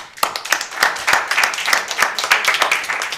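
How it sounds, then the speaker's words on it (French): Applause for players at a school quiz competition, a small nearby group clapping loudly with distinct individual claps in an uneven rhythm. "On va vous applaudir pendant que les calculs se font."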